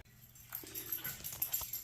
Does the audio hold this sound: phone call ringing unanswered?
no